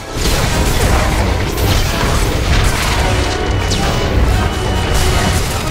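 In the Eternity Vault raid of Star Wars: The Old Republic, an Annihilation droid's cannon blasts amid a dense, loud, unbroken roar of booms and crashing battle effects that fill the whole stretch.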